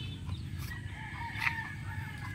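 A hen with tiny black and brown chicks clucks near and fairly softly over a steady farmyard hum, with a couple of brighter calls rising briefly, one stronger around the middle.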